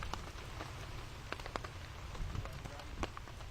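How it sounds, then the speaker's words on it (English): Steady rain falls on a disc golf course, a dense continuous hiss of drops on the ground with scattered sharper patters, close and even throughout, with no clear talk. "Looks like the rain's starting to intensify a little bit."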